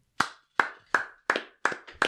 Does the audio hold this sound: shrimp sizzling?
no